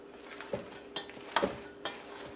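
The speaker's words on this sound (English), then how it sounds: "we still got those soaked fruits to fold into the mix here" Soaked fruits being folded into a thick coconut sweetbread batter, heard as a few soft, wet squelching scrapes spaced about half a second apart against a quiet kitchen background.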